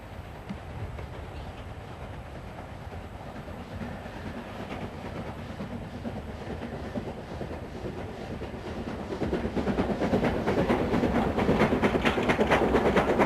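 A train rolls along the North Yorkshire Moors Railway through Newtondale Gorge on the high moorland, a steady rumbling clatter of wheels on rails that swells noticeably louder toward the end, with no voices.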